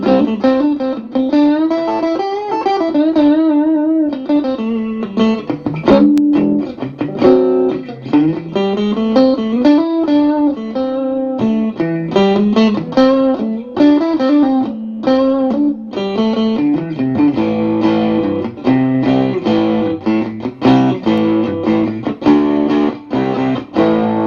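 A distorted electric guitar plays chords and runs through an overdriven Milkman One Watt Plus amp turned up without an attenuator, gritty and continuous, with no talking.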